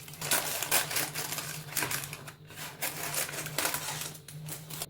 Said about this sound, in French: Je coupe le papier.